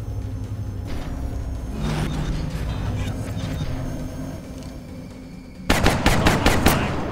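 Rapid gunfire from overwatch shots in XCOM Long War erupts as a loud burst of closely spaced shots near the end, after a stretch of low rumbling game ambience with faint background sounds.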